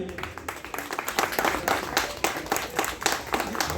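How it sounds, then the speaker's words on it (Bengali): A crowd at the opening of an agricultural fair in Barasat claps in uneven bursts, fairly faint and distant, with a murmur of voices underneath. "বিমাতার জন্য একটু জোরে হাততালি"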